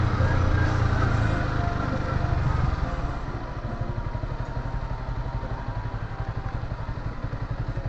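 A motorcycle engine runs steadily and close by, a dense rumble that eases slightly after a few seconds into an even, pulsing idle, with no voices.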